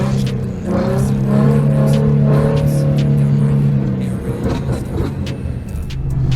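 A Ford Mustang 3.7 fitted with BBK longtube headers rolls through a drive-thru on a snowy day, a loud, throaty exhaust rumble rising and holding for several seconds, then easing off.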